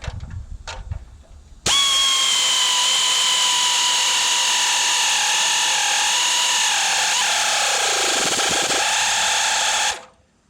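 A power tool whines loudly and steadily for about eight seconds, tightening bolts on a Fiero independent front suspension fitted to a 1940 Ford, its pitch dipping under load before it cuts off; a few light clanks come first.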